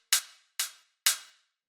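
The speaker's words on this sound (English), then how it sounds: "And then after that, I just added a bit of saturation to give it a bit more grit." Techno hi-hat sample with the low end cut by EQ and saturation added for grit: three crisp, bright metallic hits spaced evenly, each with a short hissy decay, heard alone and close.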